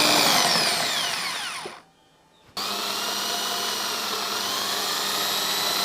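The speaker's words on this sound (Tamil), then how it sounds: "அந்த போல்ட்டோட ஹெட்லையும் சைட்லையும் இதே போல் ட்ரில் பண்ணி ஓட்ட போட்டுக்கிறேன்" A power drill bores holes into the head of a metal bolt: loud, continuous high whining grind that drops away to near silence for under a second, then restarts abruptly and runs steady to the end.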